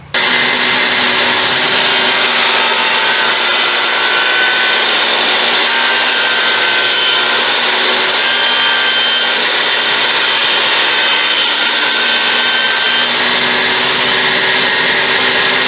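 Table saw fitted with a 13/16 dado stack cutting dados in shiplap siding boards, giving a loud, sustained, high whining roar that holds steady close up for the whole stretch.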